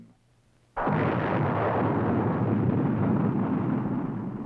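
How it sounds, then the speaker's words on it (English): An Army Jupiter-C rocket launches: after a quiet moment a sudden loud roar erupts and holds as a dense rumbling blast, fading slightly toward the end, no talk. "These efforts were climaxed by the launching of the Army's Jupiter-C missile system that put into orbit the free world's first satellite, Explorer-1."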